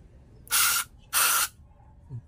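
Two bursts of RS8 cleaner spray hit the intake manifold of a Honda Click 125 scooter. Each is a loud, steady hiss lasting about a third of a second, separated by a short pause, with quiet surroundings and no talk.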